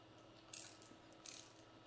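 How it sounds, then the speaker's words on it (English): A ratcheting wrench tightens nuts on the ignition coil of a Yamaha YL1 motorcycle, giving two quick, faint bursts of close-up clicking about a second apart. "I'm just going to tighten these nuts up. I'm going to use a ratcheting wrench"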